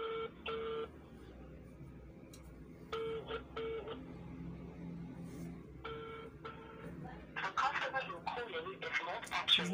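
Phone call ringing tone comes through as short repeated electronic tone bursts at a low level, heard close against faint background noise with some voice-like sounds.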